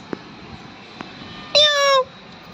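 A single cat meows once, clear and fairly close, on a home terrace with plants, following a few faint ticks against quiet background.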